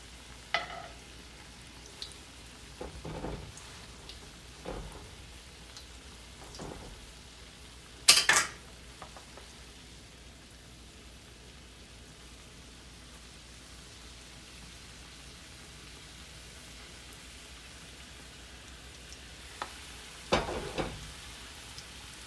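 Southern hoe cakes fry in a pan with a faint, steady sizzle, punctuated by a few scattered scrapes and taps of a spatula, one louder clatter partway through.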